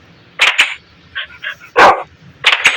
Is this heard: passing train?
no